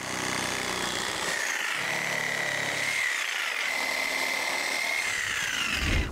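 A power saw cuts through structural lumber while building a deck outdoors, giving a loud, continuous whining buzz that holds for several seconds with slight shifts in pitch and no voices.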